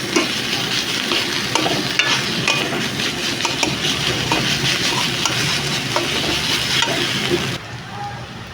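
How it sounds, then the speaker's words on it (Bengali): Ground mustard paste is stirred into a pointed gourd filling, with close, steady scraping and mixing and a faint frying hiss over several seconds before stopping abruptly near the end. "এবার আমি সরিষাটা ভালো করে মিশিয়ে নিব পুটার সঙ্গে।"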